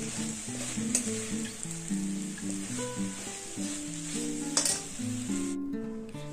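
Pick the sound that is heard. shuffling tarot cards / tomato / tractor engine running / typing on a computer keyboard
tomato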